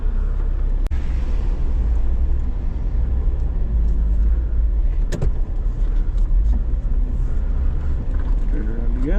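A Jeep's engine idles steadily during an off-road rescue, a low continuous rumble with occasional knocks and rattles, while people talk over it.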